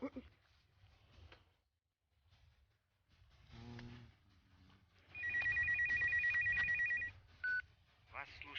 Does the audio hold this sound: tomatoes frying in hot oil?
no